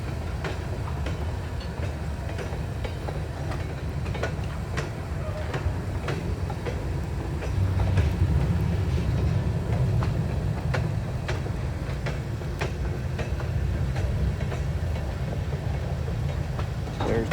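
Switcher and Geep diesel locomotives moving railroad cars in the rain, with a steady low rumble and engine drone and occasional clanks and clicks of the cars, heard from a moderate distance.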